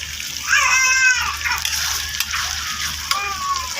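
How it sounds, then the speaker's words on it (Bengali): Water splashes and sloshes briefly as it is poured into a pot of rinsed chicken for curry, with a voice speaking over it. "তো আমি একটু ধুয়ে জল দিয়ে দিলাম।"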